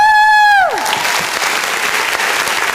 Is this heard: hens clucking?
no